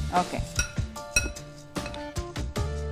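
Raw egg being mixed into a batter in a bowl, with quick clinking scrapes of a utensil against the bowl in an irregular rhythm, close and moderately loud.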